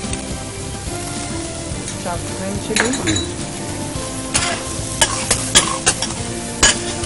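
Onion sautéing in a pan with chopped ginger and green chili, a constant close sizzle under repeated scraping and stirring, with sharp metallic clinks of a spoon against the pan toward the end.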